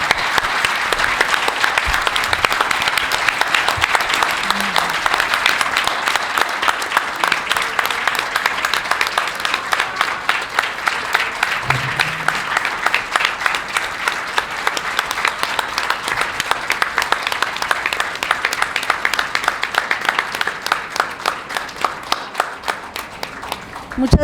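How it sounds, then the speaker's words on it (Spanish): Sustained, dense applause from a large audience at an academic forum on disappearances in Mexico, loud and continuous for over twenty seconds with a few faint voices underneath. "les demos a ellas y a ellos un gran aplauso y con ese aplauso cerremos todos"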